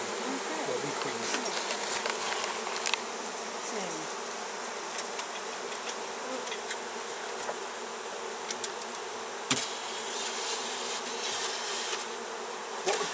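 Dense swarm of honeybees buzzing steadily around a beehive being relocated in Provence, a continuous close hum with a few faint knocks and taps.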